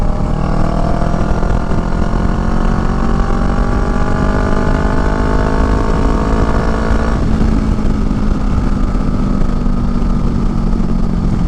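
A Honda Rebel motorcycle fitted with a Shorty GP exhaust runs loud and close, a steady throaty engine drone whose pitch glides down and then drops as the bike decelerates, with no voices over it.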